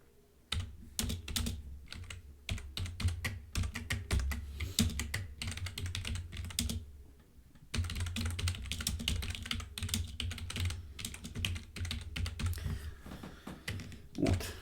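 Rapid, uneven keystrokes rattle on a computer keyboard as Python code is typed, in dense bursts with a brief pause midway; close and fairly quiet, with no talking.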